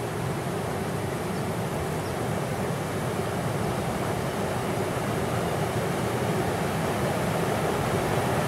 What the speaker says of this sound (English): This is a thermal river.